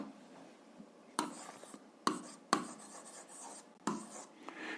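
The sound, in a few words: writing by hand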